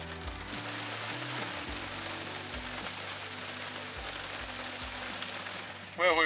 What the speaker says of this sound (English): Bit of hail falling.